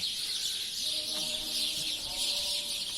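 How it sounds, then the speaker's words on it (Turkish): Sparrows chirp and twitter in short bursts in a tree against a steady background hiss, fairly faint and some distance away, near historic buildings in Şanlıurfa. "Ağaçta serçeler var. Sesleri duyuyorsunuzdur."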